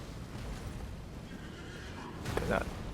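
In Elden Ring, the Draconic Tree Sentinel's horse neighs faintly amid game ambience and combat noise, with a short whinny rising near the end.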